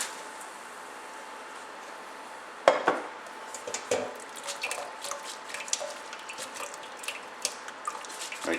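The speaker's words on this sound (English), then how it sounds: "So now we are going to strain out the shells." Boiled shrimp shells are strained out of their broth, with clattering of a metal strainer and pot, trickling liquid and scattered clinks in a quiet kitchen.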